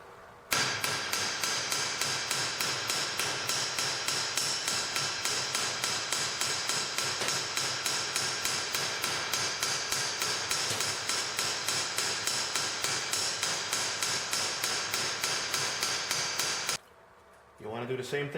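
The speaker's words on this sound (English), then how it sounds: "I'm going to do that with a small ball-peen hammer. And I'm going to hit it just pretty much trying to stay on the edge to thin out the edge." A small ball-peen hammer strikes the edge of a copper rose petal to thin it, a long run of steady, evenly spaced metallic taps, loud and close, stopping just before the end.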